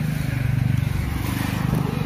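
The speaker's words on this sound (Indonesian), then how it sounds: "mohon maaf kalau terdengar suara motor ya, karena di pinggir jalan kebun saya." Motorcycle engine on a road beside a vegetable garden: a steady low rumbling drone held for about two seconds, fairly loud and even, with no voices.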